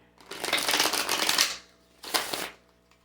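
Tarot cards being shuffled by hand, a close papery riffle lasting over a second, a brief pause, then a second shorter burst of flicking cards.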